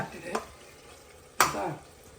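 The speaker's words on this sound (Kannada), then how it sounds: "ಟೊಮೊಟೊ ಈಗ ನೀಟಾಗಿ ಸ್ಮ್ಯಾಶ್ ಆಗ್ತಿದ್ಯಾ" Tomatoes are mashed and stirred in a frying pan, with a soft scrape followed by a louder stir and a short burst of sizzling close by.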